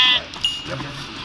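A sheep in the Minecraft video game lets out a short, close bleat, followed by faint game sounds and a bit of talk.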